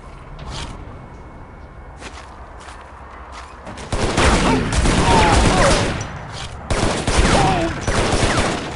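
Shotgun fire and combat in the video game Shadow Ops: Red Mercury, loud bursts of blasts and clatter arriving in two dense volleys after quieter scattered shots and clicks.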